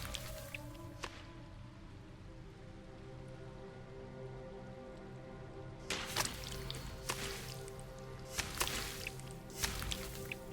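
Acid drips from a trap or creature in Baldur's Gate 3. Faint, scattered wet drips and squishy splats sit over a low ambient hum, and a cluster of sharper, louder drips comes in near the end.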